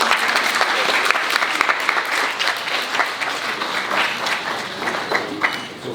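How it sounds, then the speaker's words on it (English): Audience applause at a family planning summit keynote session, steady dense clapping from a large crowd that holds for the full stretch at a fairly loud level. "A big round of applause."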